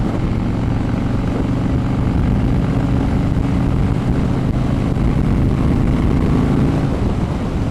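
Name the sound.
Harley-Davidson Fat Boy with Vance & Hines Pro Pipe exhaust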